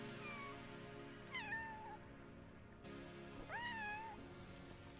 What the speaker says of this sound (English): She has a very soft meow.